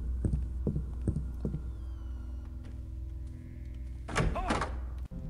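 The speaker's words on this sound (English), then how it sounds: "still hearing that door." A door opening and thumping shut inside the stealth video game Ghost Thief 2, a dull thunk followed by a brief creak and rattle near the end, over a steady low game ambience with faint footsteps earlier.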